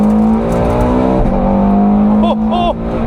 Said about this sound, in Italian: Adesso ragazzi proviamo a fare un'aperta con le valvole completamente chiuse.